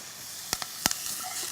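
Bell peppers and mushrooms sizzle in a frying pan with a steady close hiss, broken by a few sharp pops and crackles, with no talk.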